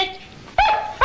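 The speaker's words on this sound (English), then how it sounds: "Oh, it's that dog." A dog from the 1976 Hollywood comedy film Won Ton Ton, the Dog Who Saved Hollywood barks twice, loud and close, in two sharp, separate bursts.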